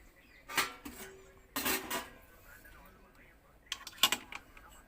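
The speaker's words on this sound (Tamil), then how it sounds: "மெதுவாக கிண்டணும்" A metal spoon clanks and scrapes against a pot of chicken biryani being stirred slowly, a few sharp knocks scattered over a quiet background.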